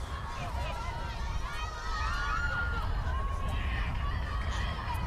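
Spectators cheer and shout steadily at a junior softball game between Western Australia and South Australia, a continuous lively mix of voices and whoops with bases loaded.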